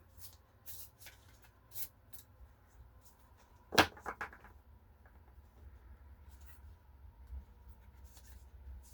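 A tarot card slid from a deck with a quick papery swish, followed by a few soft card flicks and rustles; close and quiet over a low room hum.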